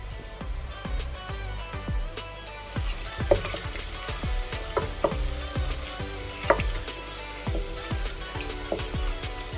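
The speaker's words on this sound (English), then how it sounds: "I let the mixture simmer for about 5 minutes, just like the original recipe" A clove and coconut oil mixture simmering in a pan on the stove gives a steady, soft crackle of small pops and bubbles, fairly quiet and continuous with no talking.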